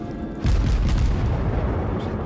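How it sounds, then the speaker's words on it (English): Naval guns in World of Warships fire together in one heavy, booming salvo, followed by a sustained low rumble that rolls on without fading, loud and close. "you can double click to fire all guns at the same time"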